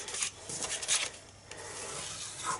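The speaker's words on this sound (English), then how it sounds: "you're just going to burnish gently on these score lines" Paper being burnished gently along score lines while a small Christmas candy cane pouch is folded, a soft continuous rubbing and scraping with brief louder strokes, close up and with no talking.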